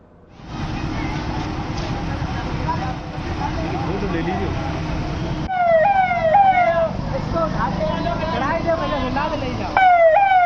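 Ambulance siren wailing on a street in Uttar Pradesh, its rising and falling tone loud and close, repeating through the scene along with traffic noise and voices talking over it.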